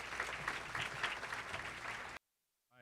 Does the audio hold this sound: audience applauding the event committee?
yes